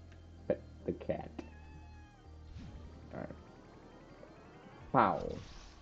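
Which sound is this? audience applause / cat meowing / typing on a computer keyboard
cat meowing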